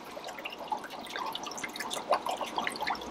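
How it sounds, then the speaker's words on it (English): Liquid bacteria supplement trickles and drips into a home aquarium in a fish room, a light irregular splashing lasting a few seconds with no talk. "I am just gonna kind of pour it, pour and pray, as they say"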